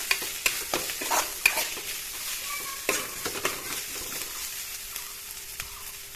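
Cumin powder and chili powder sizzle in a hot pan while a utensil stirs and scrapes, giving scattered clicks over a soft, steady hiss.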